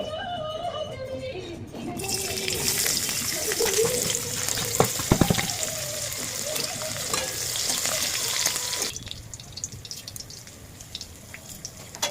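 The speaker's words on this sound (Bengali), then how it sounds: "এবার আমি তেল সম্বরা দিয়ে দেব" Hot oil tempering is poured over mashed spinach and boiled lentils, a sudden loud sizzling burst that hisses steadily for several seconds amid clatter, then dies down to a quieter background with faint voice-like tones underneath.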